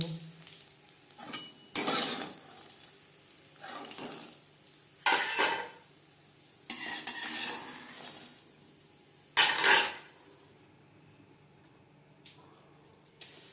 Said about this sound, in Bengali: বড়ি লালচে করে ভেজে নেওয়া হয়ে গেছে। একটা পাত্রে উঠিয়ে নেব।